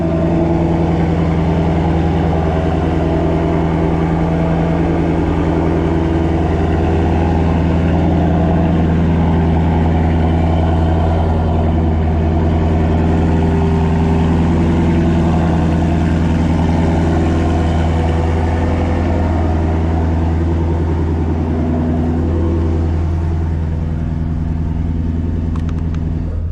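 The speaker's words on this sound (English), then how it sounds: "It's louder, but it's also cold now, so it's idling a little higher." A Shelby GT350 V8 with its resonator deleted idles cold at raised revs, giving a loud, steady, deep rumbling burble that holds unbroken throughout with no voices.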